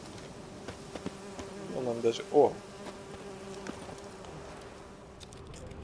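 Bees buzz in the video game The Witcher 3: Wild Hunt, a steady droning hum that swells briefly louder near the middle, with someone speaking over it.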